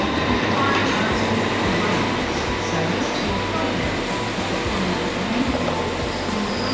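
A train rumbles steadily nearby at a UK station platform with a continuous low roar and faint rhythmic clatter, loud and unbroken throughout.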